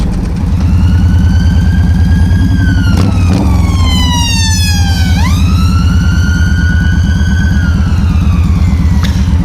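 An ambulance siren wails loudly and close by, its repeating tone falling sharply as the vehicle passes, over the steady low drone of a nearby idling engine.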